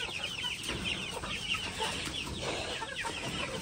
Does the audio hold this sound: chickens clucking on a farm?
yes